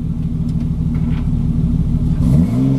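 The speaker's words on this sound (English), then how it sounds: "Give us a bit of a rev." A Nissan R33 Skyline's engine idles with a deep, close rumble, then rises into a short rev near the end.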